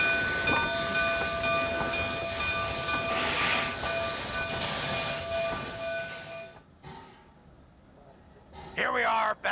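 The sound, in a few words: Baldwin steam locomotive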